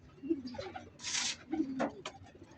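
Soft, low pigeon cooing close by, with a brief rustle of flapping and faint background noise.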